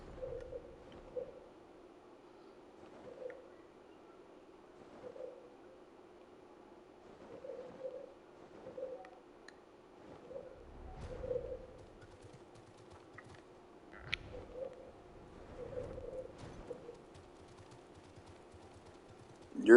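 Soft, low cooing from a pet bird repeats in a steady rhythm throughout, faint and close, with occasional clicks and small knocks in the room and no talking.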